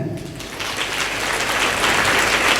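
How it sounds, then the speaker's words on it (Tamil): Congregation applauding during a Catholic church sermon, a broad sustained wash of clapping that swells slightly toward the end, fairly loud and continuous. "நல்லா பலமாக கைதட்டுங்க"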